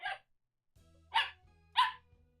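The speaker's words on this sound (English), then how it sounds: "Bark, bark." A dog gives three short, sharp barks spaced roughly half a second apart, close and clear, with a low electronic hum between them.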